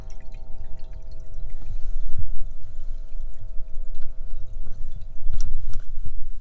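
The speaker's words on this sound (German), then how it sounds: "Bereite Wasser für Abwasch vor." Water being poured to prepare for washing dishes inside a VW T6 camper van, a close, continuous splashing pour with gurgles and drips, ending with a brief clatter, over a low steady hum.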